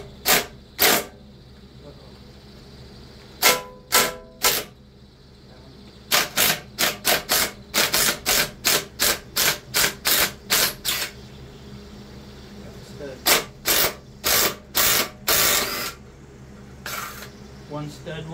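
A 12 millimeter socket ratchet working nuts on a Honda EU3000is generator, giving bursts of rapid, close mechanical clicks in uneven runs separated by short pauses.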